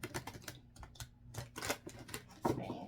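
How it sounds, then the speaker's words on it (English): Stiff tarot cards riffled and shuffled in a quick burst of crisp flicking and snapping, close by, with short pauses between passes. "these cards are quite stiff, so excuse my shuffling here"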